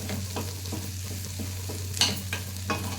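Corn kernels fry in a pan with a soft steady sizzle, broken by several brief scraping stirs, close up and quiet, with no talking.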